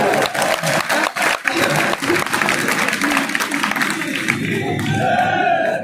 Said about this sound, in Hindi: आनंद आ रहा हो तो एक बार जोरदार तालियां।